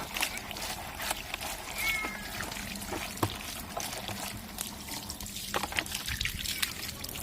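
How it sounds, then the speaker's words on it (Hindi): Tap water streams and splashes over a flower pot as it is rinsed of soil, a continuous close trickle with occasional sharper knocks and splashes. "चारों तरफ जो है पॉट को पानी से भिगोने की कोशिश करूँगी"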